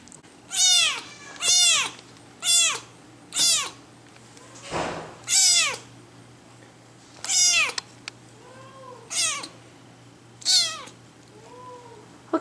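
A young rescued kitten at a feline adoption center meows repeatedly, about ten clear, loud calls in an uneven rhythm, with a brief rustle partway through and no talking.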